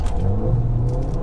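A Stage 1 Ford Fiesta ST pulls away hard in sport mode, its engine a loud, close, low rumbling roar that holds steady across the short burst with no voices.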